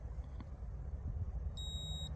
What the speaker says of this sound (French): Appuyez sur le bouton pendant 2 secondes jusqu'au bip